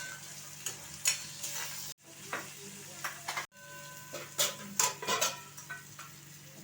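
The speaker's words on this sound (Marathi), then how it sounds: "टमाटर पण आपण चांगलं भाजून घ्यायचं" Onion and tomato roasting in a pan give a light sizzle broken by stirring scrapes and a couple of abrupt cutoffs, sounding close and moderately loud.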